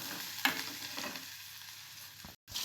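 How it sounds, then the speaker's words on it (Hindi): A steady, close sizzle of spices frying in a pan for split chickpea dal, with a brief stir or clink near the start and a short break near the end. "इसको अच्छे से फ्राई करना है हमें।"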